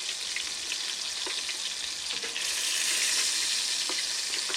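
Thick deer sausages frying in hot lard produce a dense, continuous hissing sizzle that swells louder partway through, close and steady with faint pops.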